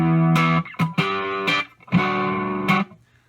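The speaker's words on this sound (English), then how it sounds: "That goes into the Morning Glory, which I've got on the higher gain setting with drive around noon" An electric guitar runs through a Morning Glory overdrive pedal set to its higher gain mode, with drive around noon and tone near two, playing a few loud, gritty sustained chords and notes with short pauses between them.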